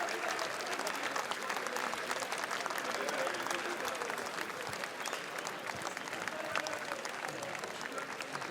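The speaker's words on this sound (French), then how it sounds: "c'est toute l'équipe de Burning qui est applaudie quelques minutes" A large crowd at the Cannes 2018 red carpet steps applauds the Burning film team, with dense, sustained clapping that continues evenly throughout.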